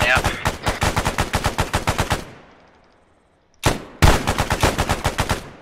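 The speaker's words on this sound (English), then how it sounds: "We just took out a tank with machine guns and a DMR, boys" Machine guns and a DMR firing at a tank in Arma 3, loud rapid bursts of closely spaced shots, a pause with a fading tail, then one sharp report followed by another sustained burst.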